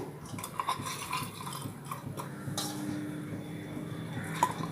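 Steamed puttu dough being scooped onto an idli plate, giving light metallic clinks and scrapes of a spoon against the plate, with small taps scattered throughout at close range.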